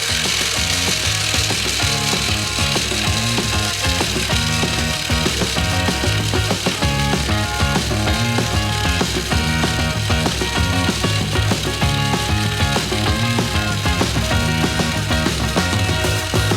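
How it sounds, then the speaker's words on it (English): A loud construction mixer keeps grinding through a big batch of hot milk, sugar and thickener for giant Kinder Bueno cream, a steady unbroken rattling, gear-like drone close by with no talking. "mix it all with a construction mixer"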